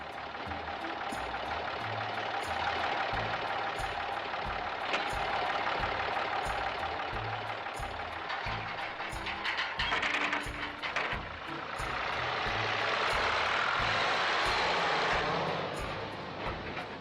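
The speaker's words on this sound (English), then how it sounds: "one of the farmers drives in with a tractor" A farm tractor drives in across a farm setting, its engine a steady mechanical drone with clanking and rattling that swells and fades over about seventeen seconds, with no talk.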